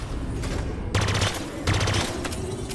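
Bursts of automatic gunfire from a Halo video game battle, two loud rapid-fire volleys cutting in over a constant rumbling background.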